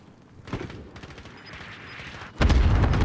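Cluster strike explosions in the shooter game Rebirth Resurgence arrive as a string of sharp blasts and crackling bursts, with a heavy, loud boom at the end.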